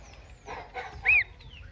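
A single baby chick on a small farm gives one short, clear upward-arching peep, fairly quiet and alone against a hushed background.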